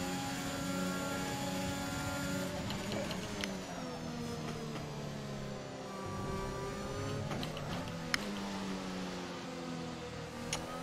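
A Formula 1 car in the F1 2021 racing game accelerates around Silverstone, its synthetic engine whine rising and falling through the gears, steady and fairly faint with a few sharp clicks, and no voices.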